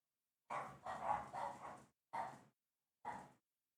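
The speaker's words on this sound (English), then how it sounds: "Why is the dog barking?" A dog barks five times in an uneven run, with the first few close together and the last two spaced out, heard fairly near with no talk over it.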